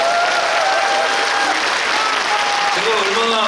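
An audience at a civic forum in Suncheon claps in sustained, dense applause, loud and steady throughout, with no voices standing out above it.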